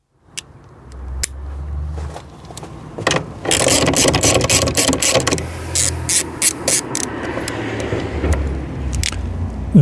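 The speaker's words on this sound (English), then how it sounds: "we need a ratchet now with a socket, specifically" Ratchet fitted with a 10mm socket working on a Mazda 2 Mk1 (Mazda Demio) during a headlamp replacement, giving a run of rapid clicking pawl strokes close up, with some mechanical clunks at the start.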